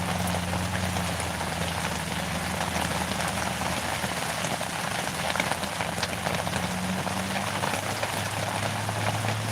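Heavy rain pours down steadily and loudly on surfaces outside a shelter where a motorcycle traveler waits, a dense continuous hiss with no voices.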